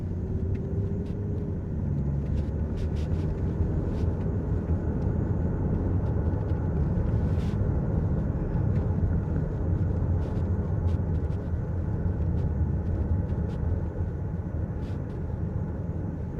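Infiniti M35h hybrid saloon running in full electric mode, heard from inside the double-glazed cabin as a steady low road rumble and tyre hum, even and continuous with no engine note or voices.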